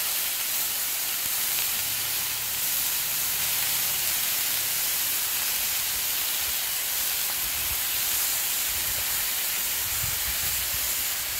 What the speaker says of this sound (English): I don't know if you can hear the sizzle